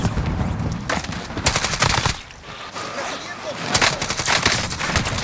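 Rapid bursts of automatic gunfire from the Call of Duty video game, in the Resurgence battle royale mode, crackle in dense volleys across the whole stretch, loud and close with brief pauses, while game sounds fill in around them.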